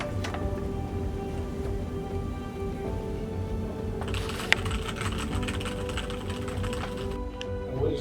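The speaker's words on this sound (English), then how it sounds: "you can turn around and see she's typing on the computer" Fingers type on a computer keyboard in a clinic setting, producing a quiet rapid patter of key clicks over low room hum, with a slightly denser burst midway.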